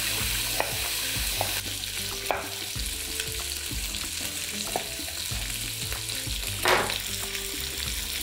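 Meat browns in a kazan cauldron for Armenian khorovats, giving a steady, loud sizzle broken by sharp clinks and scrapes of stirring throughout, with no voices.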